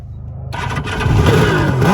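A Suzuki GT550 two-stroke motorcycle engine is started on its electric starter: after half a second of near silence it fires at once into a loud, close, raspy idle that rises and wavers with small throttle blips, with no talking.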